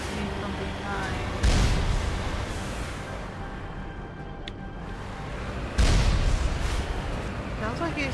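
Gunfire in the video game Mass Effect arrives as two heavy booming blasts a few seconds apart over a low rumbling backdrop, moderately loud with a faint voice murmuring.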